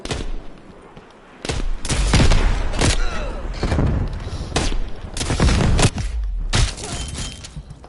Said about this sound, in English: the RPG-7.